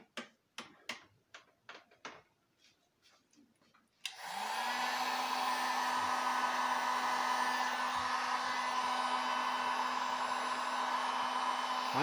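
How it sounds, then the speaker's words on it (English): A few sharp ticks and clicks come first, then a heat gun switches on with a sudden jump into a loud, steady blowing whir with a constant hum that runs unbroken to the end. "heat gun."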